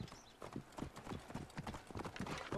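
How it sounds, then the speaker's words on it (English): Several horses clip-clop steadily in Assassin's Creed Origins, a busy run of close hoof strikes with a faint whinny-like tone, no talk over it. "Those are some big horses."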